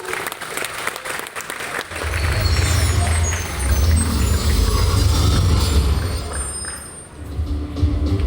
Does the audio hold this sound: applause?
yes